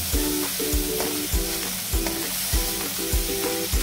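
Masala frying in hot oil for a Bhogi Sankranti mixed vegetable sabji, a steady close sizzle with regular stirring scrapes every half second or so, no voices.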